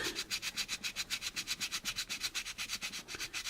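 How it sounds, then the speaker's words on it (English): A sanding block with sandpaper rubs over the curved part of an AMT Magnatomic Chiller plastic model kit in quick, even back-and-forth strokes, about six per second, close and fairly quiet. "Now I will try to correct this on the curved part, going down this way with our sandpaper block."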